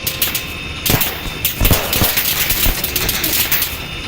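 Dense gunfire in the military shooter Arma 3, rapid overlapping bursts and sharp cracks continuing for several seconds, loud and close, with no talking.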